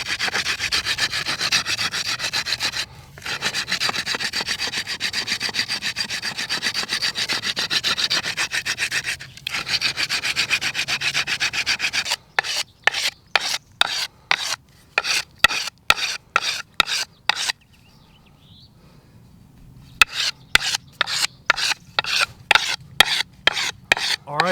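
Rough-grit sandpaper rubs over the tip of a hard, dense oak digging stick, long continuous scraping strokes at first, then a rapid series of short rhythmic rasping passes with brief pauses, close and alone.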